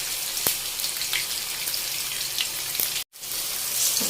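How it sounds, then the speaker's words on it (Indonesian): Ingredients for a Padang beef curry being fried until half-cooked in hot oil, a dense steady sizzle and crackle throughout, with a brief break near the end, no voices. "Jadi kita goreng setengah matang saja"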